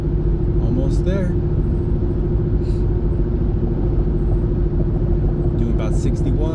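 A car cruising on a highway at about 61 gives a constant, loud low cabin rumble and road drone with no change in pace, and a voice talks over it at times.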